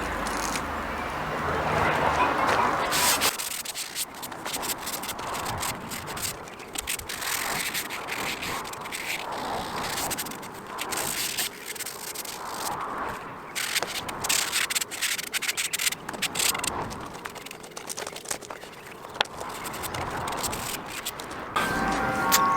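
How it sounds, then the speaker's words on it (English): The edge of an MDF board is hand sanded carefully with fine Mirka Goldflex sandpaper. Close, continuous rasping strokes rub back and forth for over twenty seconds, with no talking. "I'm going to start sanding it down just on the edge carefully"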